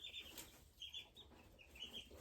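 Chickens in an indoor chicken room, with soft repeated clucks and chirps from several birds close by but quiet, coming in short irregular bursts.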